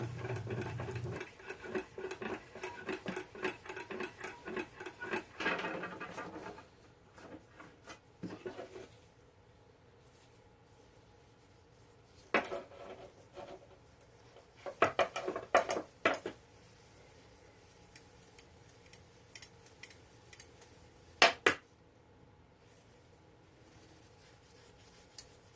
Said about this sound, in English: I'll hit it with a little bit of 4/0 steel wool to kind of shine things up